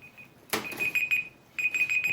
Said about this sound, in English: we're coming up on our 40-minute timer